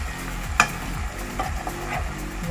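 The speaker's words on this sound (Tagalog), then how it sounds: "mix it slowly." A spoon stirring okra and beef stew with spices in a pot, soft scraping and bubbling sizzle with one sharp clink of utensil against metal.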